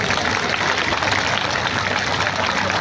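A crowd claps steadily at a Maharaja Suheldev Rajbhar birth anniversary gathering, a dense, sustained wash of applause throughout.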